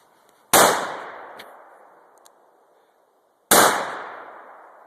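Two booming shots from a Smith & Wesson 500 revolver, each a sharp, very loud crack followed by a long echoing decay outdoors, spaced about three seconds apart.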